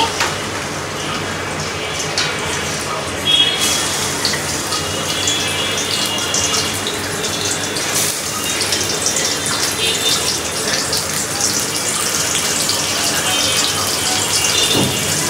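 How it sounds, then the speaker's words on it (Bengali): Water pours steadily as it drains from steamed greens in the kitchen, a loud continuous gushing splash running unbroken throughout with no talk. "আমি এখন পানিগুলো ঝরিয়ে নিব"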